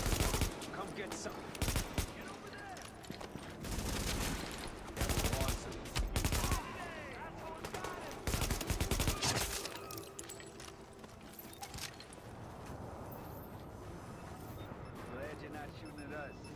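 Rapid bursts of gunfire in the video game The Division, heavy volleys in several clusters over the first ten seconds, then quieter sporadic shots under a game soundscape, with a voice talking now and then.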